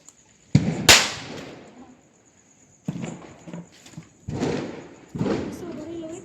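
A small bidi bomb firecracker goes off during Diwali with a single sharp, loud bang, and people talk nearby before and after it.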